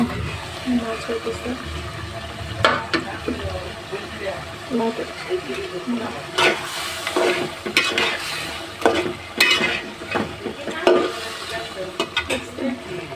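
Young bottle gourd goes into a hot frying pan of spiced oil and is stirred: steady sizzling with repeated scraping and clattering strokes of the spoon against the pan, close by, while someone talks over it.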